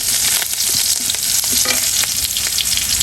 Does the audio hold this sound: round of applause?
no